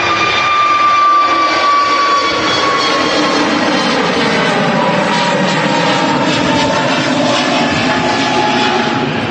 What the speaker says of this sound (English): The A320neo taking flight there.